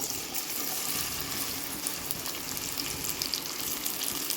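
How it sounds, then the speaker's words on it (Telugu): Sliced onions frying in hot oil for a mutton and prawn pulao, a soft continuous bubbling sizzle with faint crackles, moderately quiet and close, with no talking. "ఇప్పుడు ఆయిల్ వేడెక్కింది ఇందులో మనము ఉల్లిపాయలు వేసేసుకున్నాము"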